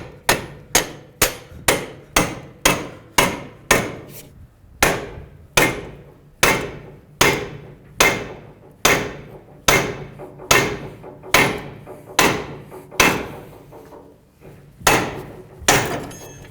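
A long run of hard hammer blows on a pickle fork driven into a Honda Odyssey ball joint, quick and evenly spaced at first, then slower with short pauses, loud and close throughout.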